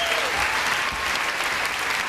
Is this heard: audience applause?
yes